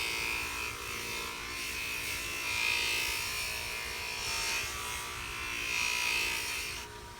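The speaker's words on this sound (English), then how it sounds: "I'm just gonna run it over the surface of this, much like a jeweler would do if they were polishing" A silver buffing wheel spinning on a small rotary tool hums steadily close up, with a whining buzz that rises and falls gently as it is pressed against and moved over a metal surface.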